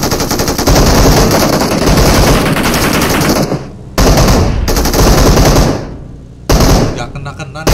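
Automatic gunfire in the mobile battle royale game PUBG Mobile, loud rapid bursts of machine-gun shots separated by brief pauses, with a voice talking over the shooting.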